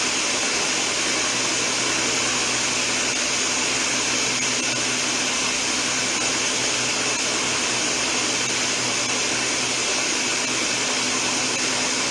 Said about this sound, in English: Habanero peppers and onions, that's it.